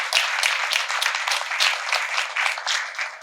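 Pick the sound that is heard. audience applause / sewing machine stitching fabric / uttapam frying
audience applause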